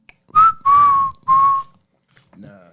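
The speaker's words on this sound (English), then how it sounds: "Blow your whistle." Three short, loud, clear whistle blasts come in quick succession, each holding a steady pitch. A faint voice murmurs briefly afterward.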